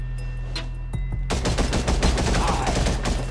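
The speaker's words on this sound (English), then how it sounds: "He keeps shooting rockets." Rocket and gunfire blasts in a Gangstar New York PvP arena mobile game, with a few separate shots followed by a dense, loud burst of rapid explosive fire over a low humming backdrop.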